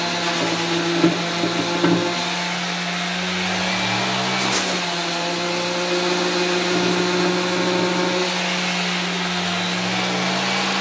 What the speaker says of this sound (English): So besides having to sand down here a little bit, might as well do that now.